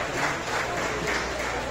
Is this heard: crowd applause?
yes